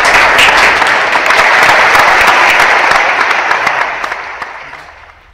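Loud, dense audience applause for a string quintet performing a tango tribute concert, a steady roar of clapping that swells and then slowly fades toward the end.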